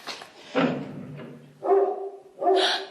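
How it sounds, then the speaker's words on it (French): A neighbour's labrador gives three loud, close barks spaced about a second apart, each with a resonant tonal core and a sharp onset. No one talks over them. "C'est le voisin qui descend promener son chien."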